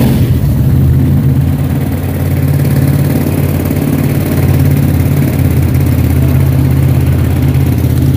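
A Jonway 400 motorcycle engine idling steadily, a loud, close, even low rumble with a constant throb and no speech.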